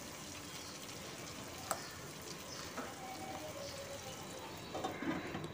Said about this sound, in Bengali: দিয়ে কিছুক্ষণ মশলাটা ভেজে নেব 1 মিনিট।